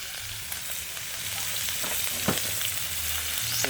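Onions frying in hot oil make a steady, close crackling sizzle throughout, broken by a few sharper pops and the faint knock of a utensil now and then.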